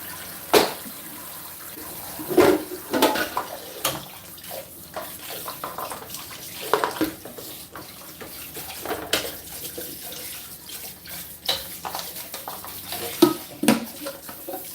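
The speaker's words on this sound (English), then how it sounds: "So let's just rinse out these ones." Juicer parts are rinsed under running water at a sink, with irregular splashing and gushing punctuated by knocks and clatter of plastic pieces being handled, close and without speech.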